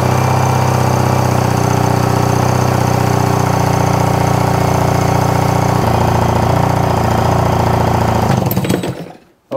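A Yamaha engine cranks and sputters at close range with the throttle held wide open during a rebuild, giving a continuous loud, rapid, knocking chug that stops abruptly near the end.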